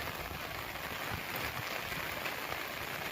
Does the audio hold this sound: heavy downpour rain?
yes